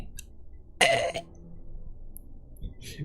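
A single short, harsh cough or throat-clearing bursts out close and loud, followed by quiet room tone with a few faint clicks and rustles.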